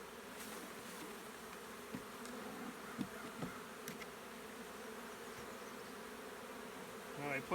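Honey bees buzzing steadily at a mating nuc during a queen-rearing hive inspection, a dense continuous hum close by with a few faint knocks.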